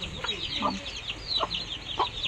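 Chickens on a small pig farm give a few soft, quick clucks at close range against a quiet, murmuring background.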